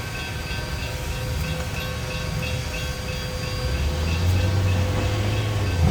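Train number 480 departing, a steady rumbling hum with faint rhythmic clicks that slowly grows louder as a low drone swells near the end.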